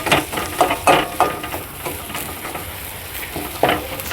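Boiled potatoes fry with spices in a pan for aloo chop filling, a loud, close sizzle overlaid with several rhythmic spatula scrapes, with no talking.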